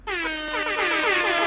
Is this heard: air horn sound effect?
yes